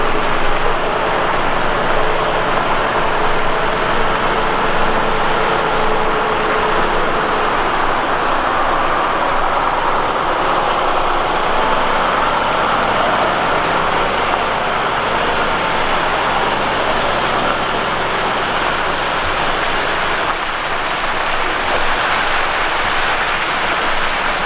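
A Volvo FH16 750 heavy-haulage truck pulls an 85-tonne gross load on twin-wheel trailers, its steady engine and road roar continuous and loud throughout, a sustained cab-interior drone with no speech.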